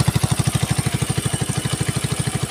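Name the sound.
small engine idling after being started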